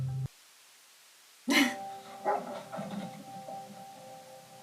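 A dog barks in a scene from the Fallout TV series: a few sharp, loud barks after a brief silence, followed by softer yips and background hum, with no speech.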